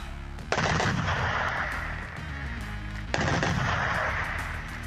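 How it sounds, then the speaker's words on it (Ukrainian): A Gepard self-propelled anti-aircraft gun fires in two long, loud bursts of rapid cannon fire, the second starting after a brief gap, with no voices. "Зенітна самохідна установка Гепард прикриває армійців у наступі."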